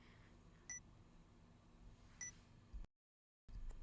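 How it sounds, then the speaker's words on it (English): Two short electronic beeps from the visual novel game 428 Shibuya Scramble, spaced apart over a low steady background hum, with a brief dropout to silence near the end. "A strange beeping sound broke Minorikawa out of his writing reverie"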